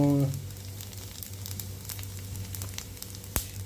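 Garlic and vadagam frying in hot oil for ennai kathirikai kulambu, a steady close sizzle with faint crackles and one brief sharp pop near the end.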